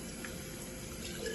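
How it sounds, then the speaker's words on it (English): Tap water running steadily into a jar to fill it for cooking pasta, a continuous close splashing pour with no talk. "fill up the jar up to the top of this label with water"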